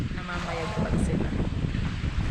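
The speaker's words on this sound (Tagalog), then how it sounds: "Sobrang hangin dito, guys." Strong wind at Lake Caliraya roars steadily against the microphone, a loud, continuous low rumble throughout.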